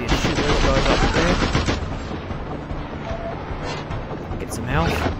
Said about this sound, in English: shoot those guys up there